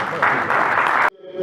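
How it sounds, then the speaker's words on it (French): A hall audience claps in a dense, loud burst to welcome a speaker at an opposition political gathering, then the applause cuts off sharply, leaving near quiet. "sous vos applaudissements bien nourris"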